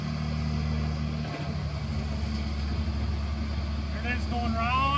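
A Valmetal V-Mix 700 feed mixer runs in high gear with a steady, loud, low mechanical drone that holds constant throughout, with faint voices in the background.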